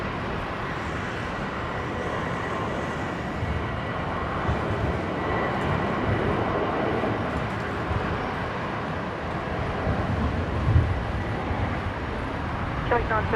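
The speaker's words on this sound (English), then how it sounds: "next departure, Qantas 629 heading to Melbourne" A Qantas airliner departing Brisbane airport makes a continuous broad, distant engine roar that holds steady throughout, with a faint murmur of voices underneath.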